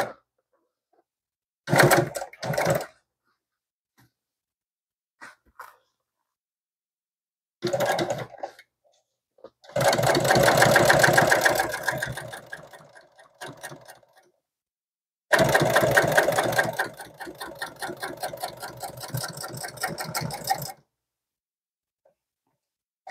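A sewing machine stitches a stool cover in several bursts of running, short ones first, then two longer runs of steady rapid needle chatter, with quiet pauses between.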